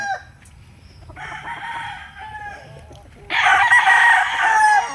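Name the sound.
chickens, roosters crowing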